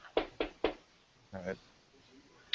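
Knocking on an attic door: three sharp, evenly spaced raps close up, followed by a softer muffled bump and a faint tap at the end.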